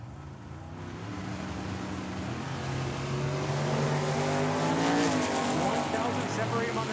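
Drag race launch of a 1963 Chevy Nova against a Mopar at a dragway, engines roaring loud and steady and building toward the end, with a commentator talking over the noise.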